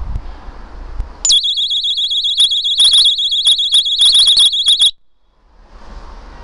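Pull-pin personal alarm set off outdoors on an allotment: a piercing, very loud warbling electronic shriek that starts abruptly, holds for nearly four seconds with a pulsing tremble, then cuts off into quiet outdoor ambience.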